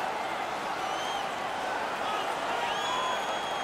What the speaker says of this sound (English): The home crowd is ecstatic.